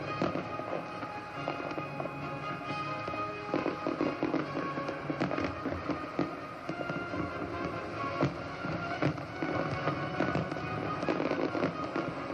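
Fireworks burst over a harbour during a Royal Australian Navy review, a dense, continuous barrage of crackling pops and bangs heard from a distance, sustained throughout with no break.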